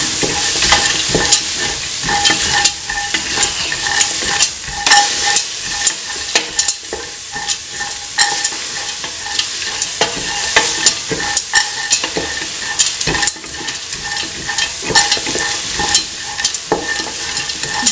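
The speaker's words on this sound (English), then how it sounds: "Mixing the green peas with the rest of the mixture." Green peas stirred into a kidney bean and coconut milk stew in a pan, with repeated close spoon scrapes and clanks over a steady sizzle, with no talk.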